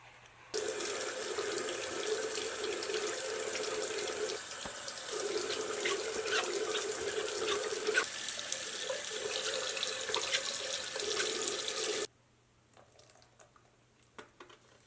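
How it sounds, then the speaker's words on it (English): Tap water runs steadily into a sink while a makeup brush is rinsed under it, a close, continuous splash lasting most of the stretch before the flow cuts off, leaving faint drips and handling noises. "after I place brush under running water, I just sweep brush back and forth to remove all soap"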